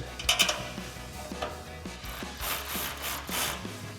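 Ratchet wrench clicking in short bursts while tightening bolts on a 2016-2023 Toyota Tacoma Barricade HD2 front bumper, close and crisp with a few pauses between strokes.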